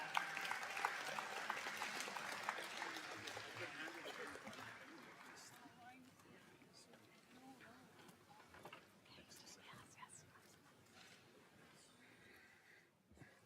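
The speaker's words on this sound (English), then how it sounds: "Let's give him a big round of applause as he makes his way up." A crowd at a national survivors gathering applauds, the clapping strongest at first and then fading over several seconds, with voices and scattered murmurs continuing beneath as the room settles.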